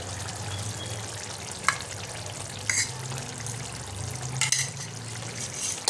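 Rui fish masala simmers in a pan after a spoonful of ghee is added, giving a soft, wet bubbling sizzle with a few sharp clinks of a utensil against the pan, heard close with no talking.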